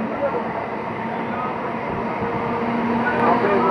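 Passenger train near Kanchrapara heading toward Kalyani, heard from on board as a steady low rumble with broadband rattle throughout.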